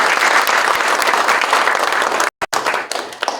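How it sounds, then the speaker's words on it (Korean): An audience in a large auditorium at a formal industrial complex event applauds to welcome a guest, dense, loud sustained clapping that breaks off for a moment, then picks up again. "환영의 박수 부탁드립니다"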